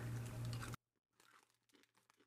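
Bisli falafel-flavored snack sticks, a fried chickpea-style Israeli snack, being chewed up close: a loud dense crunch at first, then a pause and a run of softer, irregular crunches and chewing sounds.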